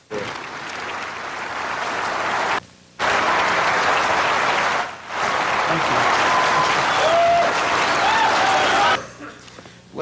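Audience applause welcoming a speaker to the stage, loud sustained clapping and crowd noise with brief gaps, a voice speaking faintly over parts of it.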